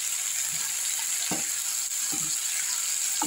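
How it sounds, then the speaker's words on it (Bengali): Vegetables and onion fry together in a pan with a steady, even sizzle, broken by a few soft stirring scrapes, close and alone without talk. "এখন শুধু একটুখানি সবগুলো একসাথে একটুখানি ভাজা ভাজা করে নেবো।"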